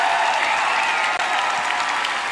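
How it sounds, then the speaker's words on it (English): A crowd at a political rally in a high school gymnasium cheers and applauds, a dense, continuous wash of clapping and voices that stays loud throughout. "You can see people cheering."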